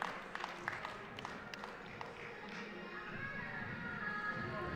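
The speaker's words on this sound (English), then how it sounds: "So big round of applause" An audience at an indoor rowing championship claps, with a few sharp close claps at first and then a steady, fairly faint patter of applause from a crowd.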